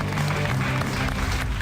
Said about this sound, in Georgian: დამსახურებული აპლოდისმენტები შენ